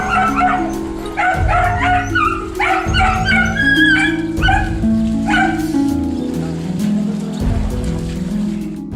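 A frightened dog trapped in a basement barks and whimpers in repeated yelps and cries, loud and close, over a steady low rumble with a faint patter like rain.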